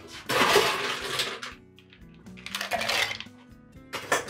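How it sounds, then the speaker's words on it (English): Ice cubes tumble into a glass or shaker for a rum mojito with lime and mint, clattering loudly in three separate rattling pours with brief gaps between them. "And we're gonna add ice."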